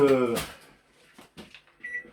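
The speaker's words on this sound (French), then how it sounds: "Faut brancher le micro-ondes, on va le faire fondre." A microwave oven is plugged in and set to melt a knob of butter at 900 watts for homemade waffles: a brief voice, a few soft button clicks and knocks, then one short, clear electronic beep close by.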